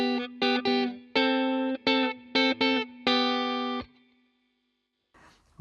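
Electric guitar run through effects plays a song's xylophone riff, a bouncy run of clipped, bright notes with a couple of longer held ones, ending in a short ringing fade and a faint trailing noise.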